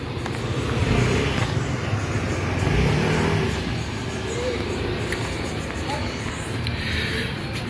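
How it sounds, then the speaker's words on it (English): Motorbikes and tricycles pass along a busy road on Boracay island, the Philippines, with engines swelling and fading as vehicles go by close to the listener over a steady traffic hum. "at the moment it's full of motorbikes and the tricycles"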